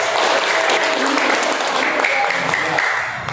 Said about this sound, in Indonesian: 100 tepuk tangan.